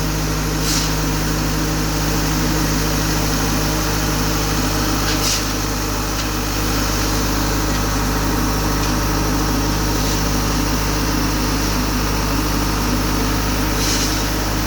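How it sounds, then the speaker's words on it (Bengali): A pump forces mortar up into a railway arch during maintenance at Hooghly Ghat station in West Bengal, making a loud, steady drone with a low tonal hum and a few faint knocks throughout. "যে মেশিনের সাহায্যে মশলা উপরে ঢোকানো হচ্ছে"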